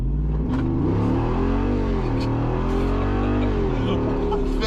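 A Jeep Wrangler with a 392 Hemi V8 revs and accelerates hard, its deep engine note rising and falling across several gear pulls, heard from inside the vehicle as people talk over it.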